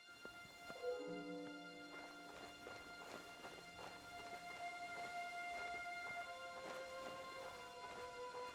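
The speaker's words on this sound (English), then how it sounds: "The horses are here." Horse hooves clip-clopping at a steady, moderate pace in the medieval game Kingdom Come Deliverance 2, fairly faint and set among ringing tonal ambience with no voices.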